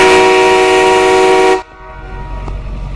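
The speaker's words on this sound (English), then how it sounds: "they actually have a train horn under their car" A loud, sustained train air horn fitted under a car blasts steadily for about a second and a half, then cuts off abruptly, leaving a rumbling engine and road noise.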